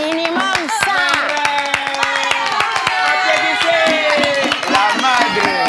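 Audience applause at a live French-language show, rhythmic clapping from a crowd mixed with cheering and loud overlapping voices that fill the room throughout.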